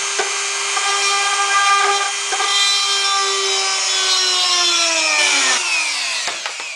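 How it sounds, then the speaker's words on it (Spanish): Loud, close power drill whining steadily as it bores 3 mm holes into wood, its pitch sagging under load before cutting off briefly and spinning down. "8 taladros a 3 milímetros de diámetro que vamos a hacer ahora mismo."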